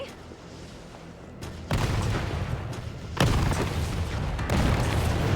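Rocket launcher blasts from Resident Evil 3 Remake, three heavy booming shots a second or so apart, each a sharp loud crack followed by a rumbling tail, close and prominent with no talk.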